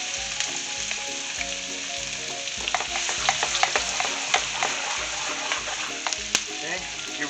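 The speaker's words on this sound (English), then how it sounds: "now I'm going to add the onions and the shallots" Onions and shallots fry noisily in a hot pan for German jägerschnitzel, a steady close crackling sizzle broken by frequent sharp pops and light stirring scrapes, with no talking.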